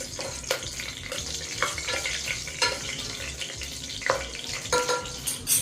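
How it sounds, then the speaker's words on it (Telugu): Whole spices (cinnamon, cloves, star anise and bay leaves) frying in hot oil for an Andhra-style mutton curry, giving a steady close sizzle with occasional stirring scrapes and clinks. "చెక్క లవంగ స్టారు రెండు బిర్యానీ ఆకులు ఇవి లైట్గా వేకనిద్దాం"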